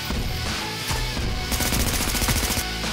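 Automatic gunfire in The Division, loud and close, with sustained rapid bursts and scattered heavier impacts running continuously across the clip.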